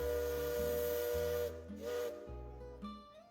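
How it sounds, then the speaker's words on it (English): A deep, steady steamboat whistle from the Liberty Belle riverboat on the Rivers of America blows loud and long, its pitch shifting slightly through a few sustained blasts. "Her whistle rang out one last time."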